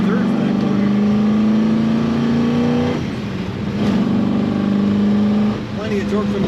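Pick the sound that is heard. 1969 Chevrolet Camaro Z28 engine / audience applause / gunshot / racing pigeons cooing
1969 Chevrolet Camaro Z28 engine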